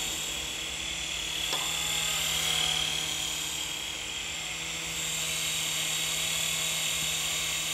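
Small R100G model helicopter flying nearby, a steady high-pitched rotor and motor whine held at an even level throughout with no talk.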